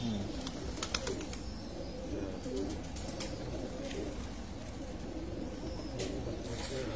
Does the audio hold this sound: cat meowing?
no